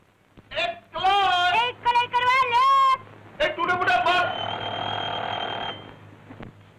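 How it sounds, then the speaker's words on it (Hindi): An alarm clock rings inside a house, a steady bright ringing that follows a stretch of animated voices talking and holds for a couple of seconds before cutting off. "कहीं से अलार्म की आवाज आ रही है।"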